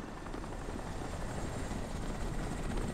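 A helicopter in the shooter game Crysis Warhead flies nearby, a steady, broad rotor roar with fast chopping thrum that holds at even loudness throughout, with no voices over it.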